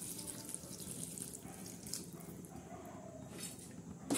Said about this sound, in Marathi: आता आपण वरून पातेल्यातलं गरम पाणी असं टाकणार आहोत